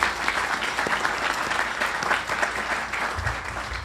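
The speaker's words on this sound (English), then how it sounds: "let's give him another round of applause." A room full of people gives another round of applause at a county bar association Law Day celebration; sustained, fairly loud clapping throughout with no speech on top.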